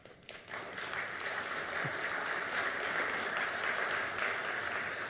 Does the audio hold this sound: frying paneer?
no